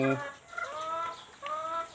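Laying hens from a flock of about two hundred cluck in a few short, close, nasal calls, one after another.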